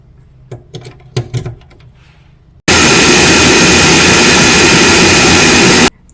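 A loud, steady roaring whir of a blender motor blending blackberries and water starts abruptly after a few soft clunks and runs for about three seconds before cutting off.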